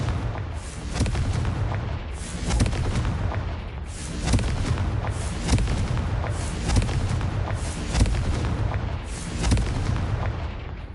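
Repeated Confringo fire spells from the Hogwarts Legacy video game burst in quick succession, a steady run of loud booming blasts with no gaps of quiet between them.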